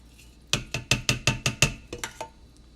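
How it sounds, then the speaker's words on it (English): A spoon stirs a thick vegan creamy garlic, onion and smoky chipotle pasta sauce in a pot, giving about nine sharp, evenly spaced knocks and scrapes against the metal, close and clear. "now let's give that a nice stir"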